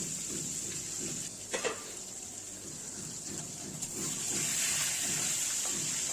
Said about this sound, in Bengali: সেটাকে নুন হলুদ লঙ্কা মাখিয়ে দিয়ে হাই ফ্লেমে ভেজে নেব